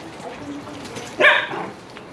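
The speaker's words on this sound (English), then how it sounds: "Neighbor dog escaped into our backyard." A neighbor's collie in a backyard gives a single sharp, close bark that stands out over quiet background noise.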